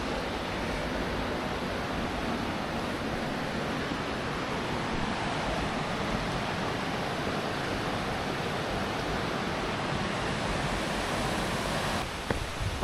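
A raging river rushes steadily past in nature, a continuous broad roar of churning water heard from nearby, with no talk over it.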